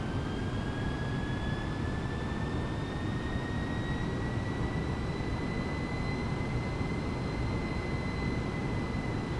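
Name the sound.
A318 airliner accelerating in Microsoft Flight Simulator video game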